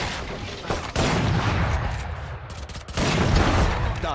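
Pistol fire in Valorant comes as loud, close gunshots: one sharp report near the start, then sustained heavy blasting, a brief lull and another loud burst.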